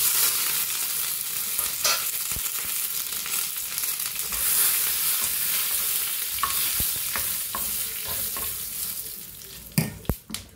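Dried red chilies and curry leaves crackle in hot oil for a curd-curry tempering, a continuous moderate sizzle with occasional stirring taps and a few sharp utensil clinks near the end.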